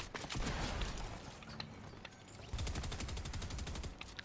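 Rapid gunfire rattles through a Fortnite match as a player jumps and shoots, with quick repeated shots in bursts, fairly distant and faint, continuing almost without pause.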